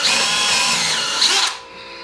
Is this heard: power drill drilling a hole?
yes